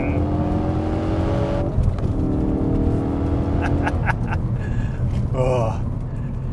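Ford Focus RS accelerating hard in a low gear in sport mode, the engine drone rising under wind and road noise as someone speaks over it.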